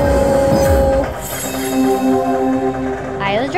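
A train sound effect from the Dragon Train slot video game plays with rumbling, clattering rail noise and bright tonal chimes over steady game audio.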